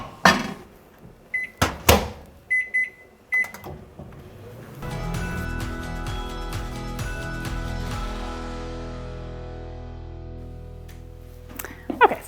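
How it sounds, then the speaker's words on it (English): A microwave oven cooking a small portion of broccoli for baby puree: a few clicks and beeps as the door and buttons are worked, then a steady humming drone that runs for several seconds before ending with closing beeps. "So I'm gonna microwave this for longer than I normally would for my own vegetables"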